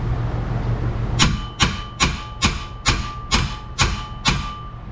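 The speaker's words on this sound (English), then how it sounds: "we are going to tap it with a hammer" Eight evenly spaced metallic hammer taps ring out on a 2014 Nissan NV200 steering knuckle during a lower control arm replacement, each a sharp close strike with a short ringing decay over faint background hum.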